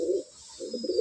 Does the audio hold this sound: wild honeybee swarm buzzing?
no